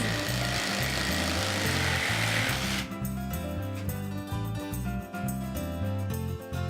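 A jigsaw cuts wood for a DIY step stool, giving a loud, steady buzzing rasp for about three seconds before stopping, with a pulsing tonal background continuing afterward.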